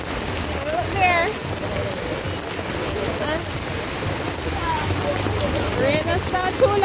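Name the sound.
rain falling in Jamaica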